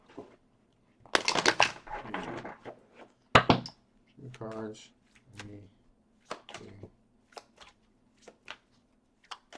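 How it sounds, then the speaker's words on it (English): Cards riffle and snap in a few quick bursts of shuffling, close by, with a voice speaking briefly between the bursts. "One more shuffle."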